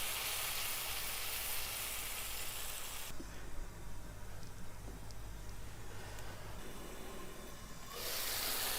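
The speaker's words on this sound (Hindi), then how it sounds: "कुछ देर के लिए मैं इसे ढक देती हूँ ताकि मसाला अच्छे से फ्राई हो जाए।" Masala for keema-stuffed capsicum fries in ghee in a covered pan, giving a soft, steady sizzle and hiss that carries on quietly throughout, with a slightly brighter, louder stretch at the start and end.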